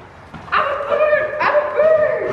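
A playful dog yips, whimpers and barks during morning games, two rising whiny bursts close by, loud and clear, with no talking.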